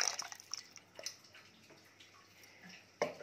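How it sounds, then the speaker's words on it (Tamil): Tamarind is squeezed and dissolved in water by hand for a mackerel fish curry, giving soft, irregular splashes and drips with a sharper slosh near the end, close and fairly quiet. "இப்போது இந்த புளி தண்ணியை கரைச்சி எடுத்துக்கலாம்."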